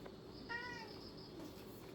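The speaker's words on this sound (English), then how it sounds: "this is a cat." A domestic cat meows once, close by, a short clear call in the middle of a steady indoor background hum.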